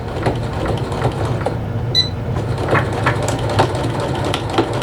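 A sewing machine back stitches a beach tote bag, its motor humming steadily with a quick, regular run of mechanical needle clicks, close and continuous, with no talking.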